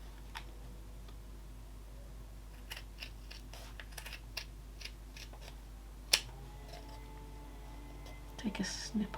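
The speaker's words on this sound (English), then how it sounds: "now grab my scissors and I'm literally going to cut across from my folded edge down to that mark" Scissors cut through folded felt in a quiet room, with a series of soft snips and clicks, one sharper snap, and a few rapid closing cuts at the end, all close and faint.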